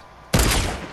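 A sudden loud burst of gunfire in the Fortnite video game, erupting abruptly and sustaining as a dense, close barrage that slowly fades over the remaining moment.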